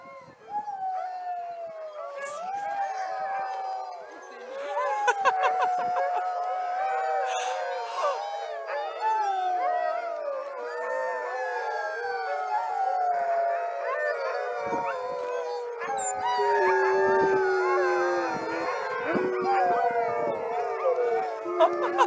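A pack of dogs in Alaska howls together in a sustained, overlapping chorus of rising and falling wails, loud and close, with occasional yips over about twenty seconds.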